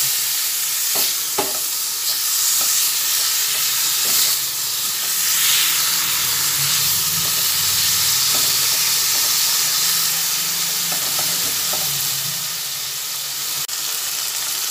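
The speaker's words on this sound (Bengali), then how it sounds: "এরপরে এইটা দিয়ে ভালোভাবে একসঙ্গে ভেজে নিচ্ছি" Steady loud sizzling of bitter gourd frying with pumpkin pith, with occasional stirring clicks and scrapes throughout, no speech.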